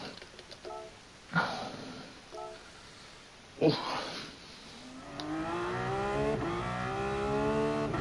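A quiet racing engine in the video game GT Sport whines through gear shifts with a couple of sharp bumps, then climbs steadily in pitch as it accelerates on the Nordschleife.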